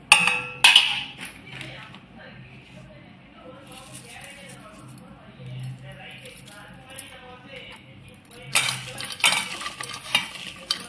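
A spoon scraping and clanking against a metal vessel while ground spices are mixed into masala egg, with bursts of stirring at the start and end and a quieter stretch of faint sizzling and talk between.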